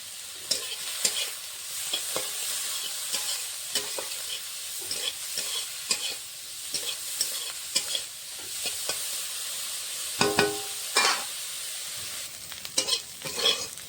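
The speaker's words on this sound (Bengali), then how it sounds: "কড়াইতে মাছ ভাজার জন্য তেল দিয়ে দিয়েছি।" Fish sizzles in hot oil in a wok, a steady close frying hiss broken by scraping and stirring clatter and a few louder spatters, with no one speaking.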